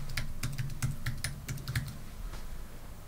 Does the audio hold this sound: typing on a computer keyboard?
yes